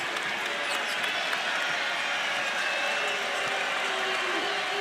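LSU home basketball crowd cheering in a packed arena during an Alabama game, a steady broad roar of voices holding loud and even throughout with no talk on top.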